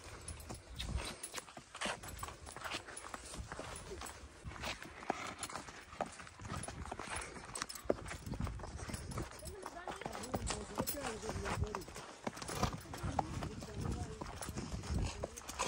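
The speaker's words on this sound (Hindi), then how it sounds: "फाइनली घोड़सवारी जो है वो हो गई है।" A mare's hooves clip-clop in an uneven rhythm close by while a person riding talks over them, with outdoor background noise.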